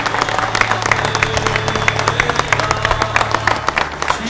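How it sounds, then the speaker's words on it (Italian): Scattered outdoor applause at the reopening and inauguration of a town piazza, a crowd clapping in quick, irregular bursts at close range over a steady low hum. "Ok, bel applauso."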